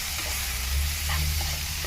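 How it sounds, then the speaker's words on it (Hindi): Maggi masala spice frying in a hot pan gives a steady, close, loud sizzle throughout, with faint stirring scrapes and no voices. "थोड़ी सी मैगी मसाला को हम लोग थोड़े फ्राई करेंगे, भून लेते हैं फ्लेवर अच्छा आने के लिए"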